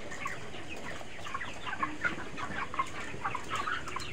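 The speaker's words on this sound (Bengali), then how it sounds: "তো এইমাত্র গাড়ি আসলো, তখন মুরগিগুলোকে মেপে মেপে গাড়িতে লোড দেওয়া হবে।" Broiler chickens, 35 days old, cluck and call on a village poultry farm as they wait to be weighed and loaded onto a truck; steady overlapping clucks at moderate distance with no talk.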